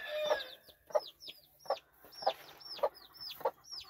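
A game chicken hen clucks in short repeated calls over her chicks, their high thin peeping chirps recurring throughout, close and fairly loud on a farm.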